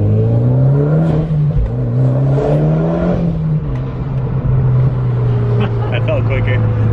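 A Mitsubishi Evo X with bolt-on modifications gives a loud, steady engine drone whose pitch dips and rises slightly, with people talking over it close by.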